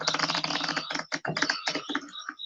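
Cards are shuffled by hand in a fast, close run of crisp riffling clicks lasting a couple of seconds, ending in a few slower taps, with no voices.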